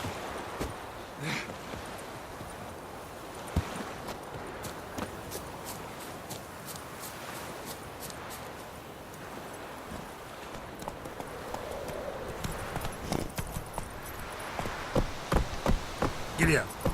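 A horse in The Witcher 3 gallops with rapid, rhythmic hoof clip-clops on the ground, fairly quiet under ambient game sound and occasional voices.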